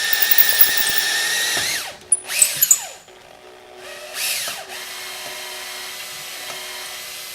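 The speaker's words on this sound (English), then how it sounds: "Now that we're done drilling our EGR passageway" A power drill whines steadily, briefly stopping and squealing as it bites through metal drilling an EGR passageway on a Honda 3.5-liter engine, then runs on alone at a constant pitch.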